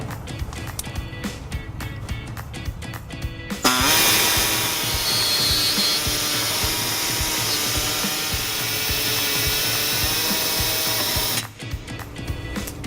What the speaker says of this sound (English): to make a small notch in our access hole, I'm going to be using an air saw